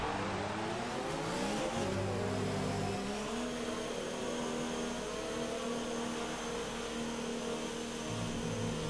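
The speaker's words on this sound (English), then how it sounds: "Safety car now deployed." Race cars in a Brazil round of a racing video game, with a safety car out on track, drone as a continuous engine whine that holds steady and shifts in pitch.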